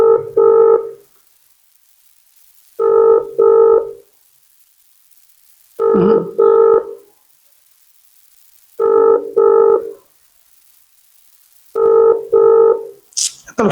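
An outgoing telephone call rings with steady double-pulse ringback tones repeating about every three seconds, loud and clear with no talk over them.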